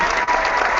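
Studio applause for a talk show, a brief, steady burst of clapping lasting under a second.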